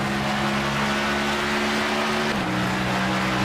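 A NASCAR Cup Series race car engine in the iRacing video game at Pocono drones steadily at high revs, then dips slightly in pitch partway through, loud and continuous with no voices.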